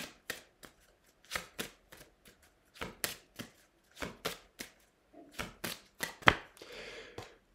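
Oracle cards being shuffled by hand in a series of crisp, close riffling bursts with brief pauses between them, quiet and without any talking.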